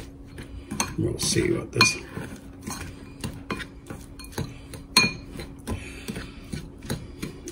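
A spoon scrapes and clinks against a dish while a crumbly brown sugar mixture for a pancake casserole is stirred, giving irregular taps and rattles close by, with brief speech partway through.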